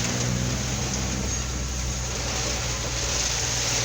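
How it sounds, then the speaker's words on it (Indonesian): Heavy rain with strong wind in the city of Bogor makes a loud, steady broadband roar with a low rumble underneath, continuous and close, with no voices. "hujannya makin gede ya"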